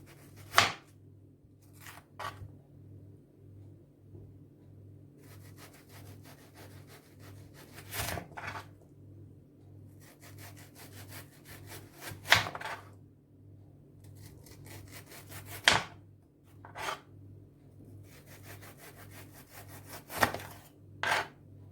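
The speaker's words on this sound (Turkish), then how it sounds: "şimdi soğanımızı yarım santim aralıklarla kesiyorum" A knife saws back and forth through an onion, cutting half-centimetre rings in steady runs of rasping strokes, each batch ending in a sharp tap on a board.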